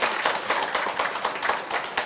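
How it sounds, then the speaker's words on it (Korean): An audience at a forum bursts into steady, dense applause, many hands clapping together in a continuous patter with no voices over it. "마음을 충분히 다잡을 수 있도록 박수 한번 두 분께 좀 부탁을 드리겠습니다"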